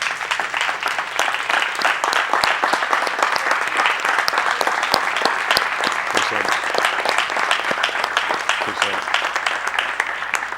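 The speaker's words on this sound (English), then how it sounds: "Give Mr. Yahuwah a hand clap." Congregation applause during a church livestream, many hands clapping in a loud, sustained, crackling patter with individual sharp claps standing out, and some voices mixed in.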